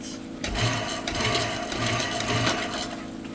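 A haylage silo unloader motor hums with a low mechanical drone, running continuously at a constant level after a brief quieter start, with no talking.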